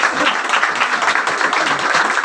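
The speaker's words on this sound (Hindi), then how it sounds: "ताली बजाइए आप लोग।" Audience applause at a BSP political rally in West Bengal, dense continuous clapping filling the space, loud and close, with no talk over it.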